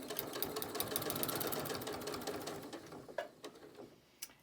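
A sewing machine stitches fabric scraps for a lanyard, a quiet, fast, even chatter of the needle that runs steadily, then slows and stops with a few soft clicks at the end.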